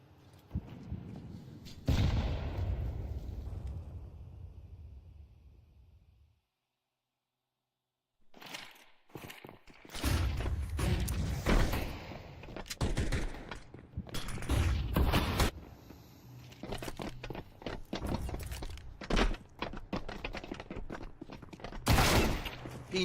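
Counter-Strike gunfire from an MP9 and an AK during a pro match, a rumbling burst early, a short silence, then many sharp rapid shots and cracks in clusters, fairly faint overall.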